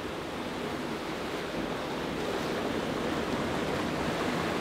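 Sea waves rolling and breaking on rocks at Southerndown beach, Dunraven Bay, Wales, a continuous loud roar of surf and spray heard from a cliff above, with no speech.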